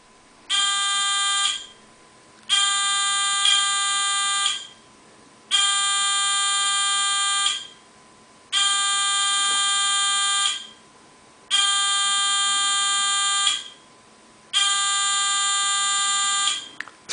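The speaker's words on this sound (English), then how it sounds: "Three beeps. That means red." A buzzer on a fischertechnik driving robot sounds six sustained electronic beeps in a steady on-off rhythm, each about one and a half seconds long, loud and close with no talking.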